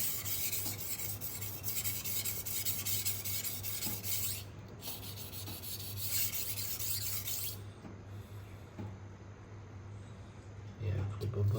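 Close, steady rasping and rubbing strokes of a knife being sharpened on a stone, coming in bursts with brief pauses between passes and a low hum underneath, at a moderate level.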